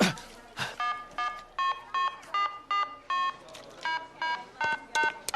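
An emergency telephone is dialed in a string of about a dozen short, evenly paced tone beeps, each one distinct and clear over a quiet background, with a few clicks scattered between them.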